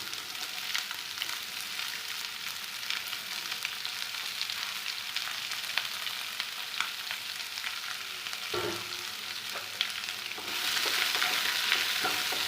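Chopped onions frying in a pan for a drumstick leaf stir-fry, producing a continuous close sizzle with soft stirring scrapes and a brief thump, the hiss swelling louder near the end.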